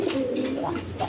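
Low, burbling coos come from Rasgolla pigeons kept in a dealer's pen, a continuous close warble with soft rises and no voices.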